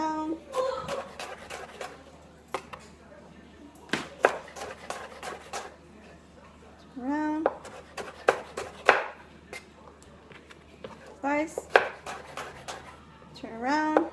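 A knife slices through shrimp on a cutting board while ceviche is prepared, giving repeated crisp cuts in short clusters across the span, with a voice talking between and over the strokes.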